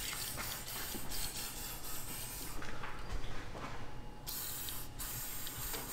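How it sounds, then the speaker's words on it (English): WD-40 sprayed from an aerosol can onto the rubber exhaust hangers of a Honda Civic EP3 during a Tegiwa exhaust install, a steady close hissing spray that runs for several seconds in a garage. "We'll go ahead and spray them and let it sit"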